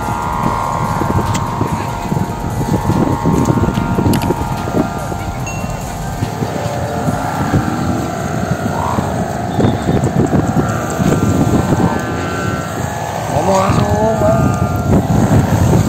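Steady outdoor wind buffets the microphone in a continuous loud rush for the whole stretch. Faint voices and other outdoor sounds sit underneath at a kite-flying field.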